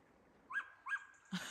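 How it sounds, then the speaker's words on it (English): Dog barks from somewhere out of sight, two or three short high yelps and whines that sound faint and distant over quiet outdoor background. "That's him barking."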